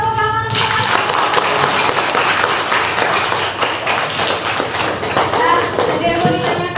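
A classroom of students claps in applause, a busy, continuous patter of hands that runs the whole time, with voices talking underneath.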